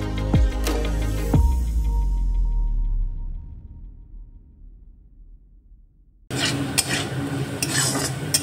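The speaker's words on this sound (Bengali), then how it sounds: "আলুটা একটু ভাজা ভাজা করে নিতে হবে।" Boiled potatoes stir-fried in a pan with mustard seeds and chillies; heavy clanking stirs and sizzling drop to near quiet midway, then a loud, dense sizzle with scraping returns abruptly.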